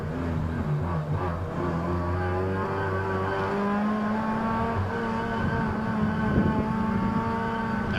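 Several race cars at a wet Malaysia Championship Series race roar and rev together off the start, engine notes rising and overlapping in a loud, dense drone with no voices.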